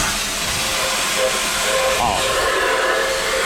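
Sandblasting the rusty intake manifold of an old Slant 6 Mopar engine, a loud steady blast of hissing air and grit that runs unbroken and close throughout.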